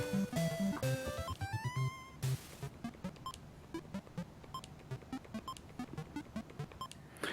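Electronic beeps and chirpy tones from an NES video game: a quick run of pitched blips and rising sweeps opens loudly, then a steady patter of short, bright beeps repeats in a fast rhythm.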